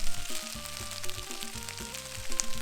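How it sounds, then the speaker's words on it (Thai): Shrimp fried rice being stir-fried in a pan gives a steady, close sizzle over a background melody. "จากนั้นก็ผัด ผัดให้เข้ากันค่ะ"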